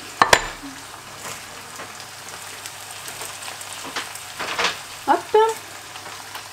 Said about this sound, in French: je vais ajouter un tout petit peu de bouillon